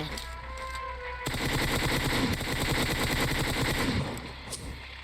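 In a PUBG Mobile match, enemy gunfire breaks out as a fast automatic burst of shots. The rattle runs steadily for several seconds after a quieter start, then fades.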